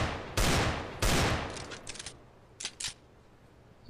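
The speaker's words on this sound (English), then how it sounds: "Deagle is still the heaviest hitter out of all the pistols in Counter-Strike." Two loud Desert Eagle pistol shots in Counter-Strike fire about half a second apart, each followed by a decaying tail, then a few fainter clicks and metallic handling sounds.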